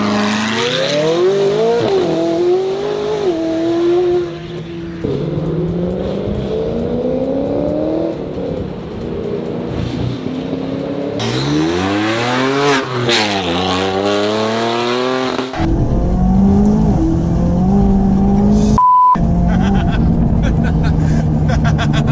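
A McLaren 570S sports car engine revs and accelerates hard through rising and falling gear sweeps, loud and close, with people talking over the engine noise.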